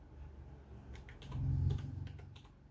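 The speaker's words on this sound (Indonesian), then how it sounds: "Di sini akan kita ketikkan" Keys on a computer keyboard clatter quickly as the ipconfig command is typed, a close, soft run of clicks with a slightly heavier burst in the middle, no voices.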